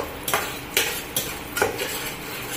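Whole spices fry in hot oil in a pan with a steady crackling sizzle, punctuated by four sharp scrapes or stirs of a utensil against the metal, close and fairly loud with no talking.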